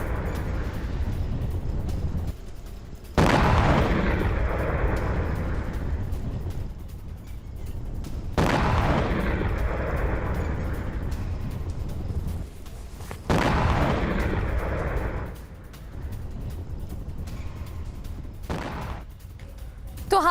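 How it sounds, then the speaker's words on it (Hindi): US ATACMS and PrSM missiles launch from Kuwait, each giving a sudden loud roaring blast that slowly fades, repeated three times at intervals of several seconds over a low rumble. "कुवैत से ATACMS मिसाइल दागी गई और प्रिज्म मिसाइलें भी लॉन्च की गई।"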